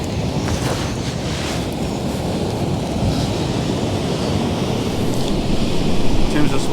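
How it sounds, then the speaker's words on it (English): Big ocean swells rolling in and breaking along the shore near Kalbarri, Western Australia, a steady, continuous roar of surf with wind buffeting the microphone, growing slightly louder toward the end, with no talk. "Still some big swells rolling in."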